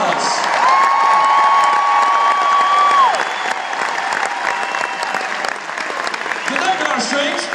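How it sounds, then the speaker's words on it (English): A large concert audience applauds and cheers for a string section drawn from the local Georgia Symphony Orchestra at a show, steady loud clapping with whoops, while a sustained whistle or tone rings over the first three seconds. "please give your own strings a huge round of applause"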